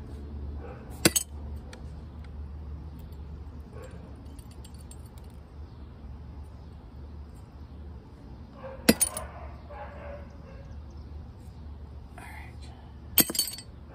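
Broken glass flask shards picked by hand off orchid agar, giving a few sharp, brief clinks spaced apart over a low steady background hiss, close and fairly quiet.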